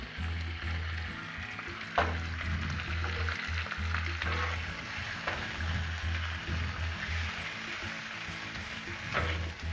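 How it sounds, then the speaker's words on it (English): Meat and chorizo sizzle loudly on a hot Blackstone griddle for Mexican-style cheesesteaks, a continuous crackling fry with a few sharp spatula scrapes, without voices. "Go ahead and throw that meat on there. Let's get that chorizo going too,"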